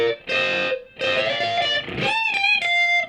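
Distorted electric guitars play a melodic line together in close harmony, sustained notes shifting in steady phrases, loud and upfront with no voices.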